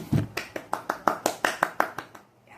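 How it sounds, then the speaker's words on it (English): About a dozen sharp hand claps in a steady rhythm, close and fairly loud, each a crisp broadband snap that fades out quickly. "Claps."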